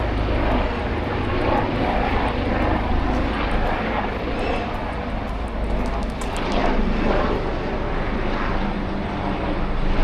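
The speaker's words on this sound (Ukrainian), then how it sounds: "Вертольот. Незвично такий гул для нас." A helicopter flies overhead in Istanbul, giving a steady, loud engine and rotor drone that fills the whole stretch without a break.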